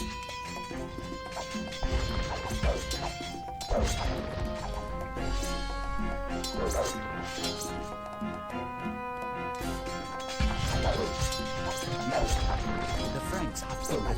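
Buildings crashing and smashing as a town centre is destroyed in the video game Age of Empires II, with repeated impacts under steady game music and a voice talking over it.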